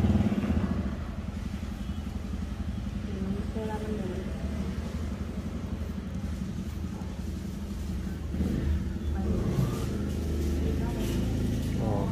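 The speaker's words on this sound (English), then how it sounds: "Lots of motorbikes though." Motorbikes pass along an island road on Koh Phangan, Thailand, their mid-pitched engines droning steadily at moderate distance with a few louder swells, under occasional voices.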